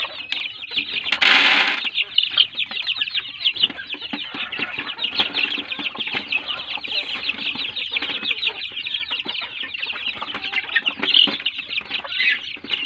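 Native chickens cluck and chatter continuously inside a coop, close and busy, with a brief burst of wing flapping near the start and no talk.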